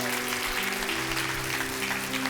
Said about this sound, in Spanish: Dele un fuerte aplauso al Rey bendito.